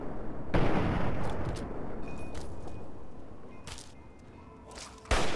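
Sharp gunshots crack out one by one over a rumbling, noisy Fallout 3 game soundscape, with a final loud blast near the end.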